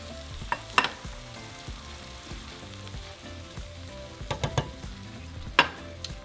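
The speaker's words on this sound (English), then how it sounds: "we're just going to saute it for 2 minutes" Garlic and herbs sizzle and fry steadily in a pan, with a few sharp clinks and scrapes of a utensil stirring, no voices.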